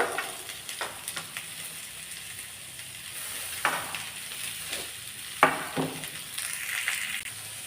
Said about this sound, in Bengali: এবারে আমি গাজর আর শশাকে একসাথে ভাজা করব